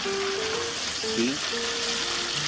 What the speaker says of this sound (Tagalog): Kita niyo, gumagawa ko ng fried chicken.